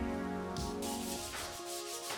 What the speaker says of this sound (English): I started to sand them down in order to repaint them